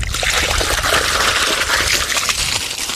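Water pours steadily into a drum being filled with a fermented EM plant-feed mixture on a farm, a continuous close splashing trickle with no talk.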